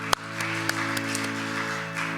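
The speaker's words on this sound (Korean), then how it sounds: "우리 기쁨 되신 예수님께 박수 영광 올려드리십시다" A church congregation applauds during a worship service, a steady, even wash of clapping over sustained keyboard or organ tones, with a couple of sharper claps standing out near the start.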